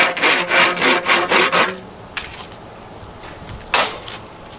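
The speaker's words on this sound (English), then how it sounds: "we're going to cut a slot right here" A handsaw cuts a slot into 2-inch PVC pipe, with a run of quick, close rasping strokes followed by a pause and then two more single strokes.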